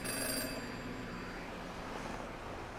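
A video-game telephone rings inside a phone booth, a bright metallic bell tone sounding clearly at the start, then trailing into steady background ambience.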